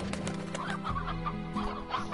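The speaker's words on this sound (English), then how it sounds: "I have some chickens." Chickens cluck in a row of short, close calls over a steady game-music bed in Slime Rancher, with no talk.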